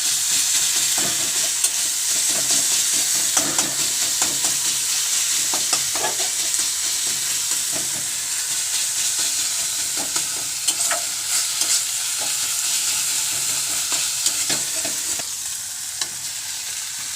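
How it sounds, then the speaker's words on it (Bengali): Chicken sautéed with tomato paste in a pan, a loud, continuous bright sizzle with intermittent scraping and stirring of a utensil through the thick mixture, close up and sustained throughout, no voices. "টমেটো বাটাটা দিয়ে দেবো। তো দিয়ে আমরা একটু কষিয়ে নেব এটাকে।"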